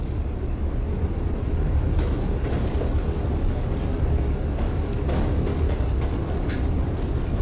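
An NYC Subway R46 train runs in the OpenBVE simulator, a steady, loud broadband rumble of wheels and motors on track that persists throughout, with faint clicks and rattles near the end and no talking.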